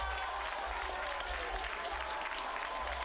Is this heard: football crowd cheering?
yes